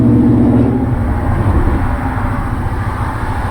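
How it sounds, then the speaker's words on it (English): Loud, steady traffic rumble as cars pass close by, a continuous engine roar with no voices. "All these loud cars, I apologize."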